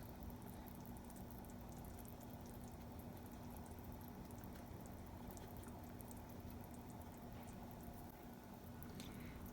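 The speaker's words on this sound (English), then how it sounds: "Let's have a look at our stew. Yeah, it's simmering." A pot of Persian gheymeh stew simmers steadily, giving a continuous soft bubbling and gurgling with faint drips and pops throughout, close by and with no talking.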